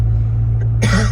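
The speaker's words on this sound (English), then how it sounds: "the allergy cough is already starting" A single allergy cough bursts out near the end, close and loud, over a low rumbling background hum.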